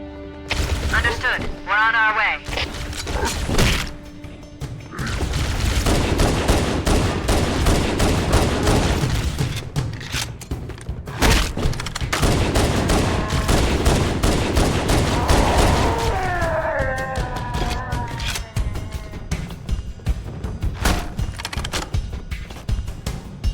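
Heavy automatic gunfire aboard a dropship in the 2001 video game Halo Combat Evolved, sustained rattling bursts under engine roar, loud and close, with radio-style voices speaking over parts of the battle.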